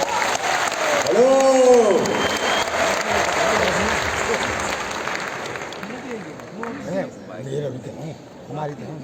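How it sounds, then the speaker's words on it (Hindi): A crowd claps at a network marketing event, a fairly loud burst of applause that fades gradually while a voice speaks over a microphone near the start and again at the end. "तो एक बार जोरदार तालियां हो जाए।"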